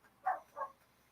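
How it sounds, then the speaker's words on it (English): A dog barks twice outdoors, two short separated woofs at moderate distance with quiet background between them. "I wonder if my neighbors can hear him barking."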